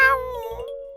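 A man imitates a cat's meow, giving a single drawn-out, nasal falling meow that sounds close and clear, about a second long.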